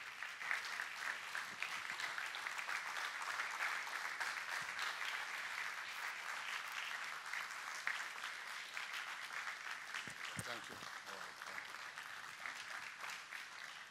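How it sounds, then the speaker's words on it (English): Sustained audience applause as a keynote speaker is brought to the stage, thick steady clapping from a large crowd that holds an even level throughout, with a few louder claps standing out. "please, with a very warm round of applause, let us bring up together Dr. Cosmas Maduka."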